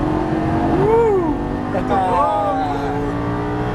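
A 2013 Lamborghini Gallardo on a racing circuit, its engine rising in pitch as it accelerates and shifts, heard from inside the car beneath an instructor's spoken coaching.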